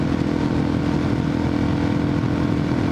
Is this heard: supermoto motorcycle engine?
yes